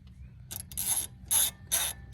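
A ratchet tightens a small bolt holding a brake rotor on a front wheel hub, giving about four short bursts of rapid clicking with brief pauses between them, close and fairly quiet.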